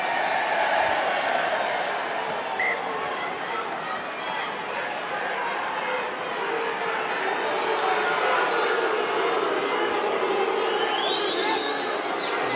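A rugby stadium crowd during a Scarlets versus Ospreys match keeps up a steady roar of jeers and whistles at a player, a dense continuous wall of noise.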